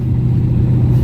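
A Chevy truck engine, carburetor just repaired after sitting about a year, revs and accelerates in a loud, close, steady low rumble for a second, no talking.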